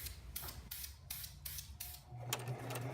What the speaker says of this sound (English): I got this heavy duty sewing machine that'll easily sew through a few layers of 2-inch polyester seatbelt webbing